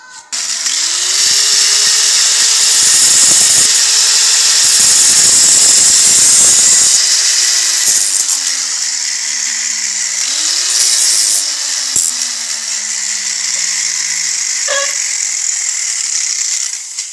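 A power tool grinds loudly and continuously at close range while cutting a steel nail into an arrow tip, its pitch sagging and recovering as the blade bites into the metal, with rattling bursts along the way.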